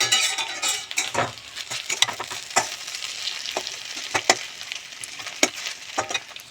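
Food fries gently in a generous amount of oil with panch phoron and poppy seed in a covered pan, a soft steady sizzle broken by occasional light utensil clicks and stirring scrapes.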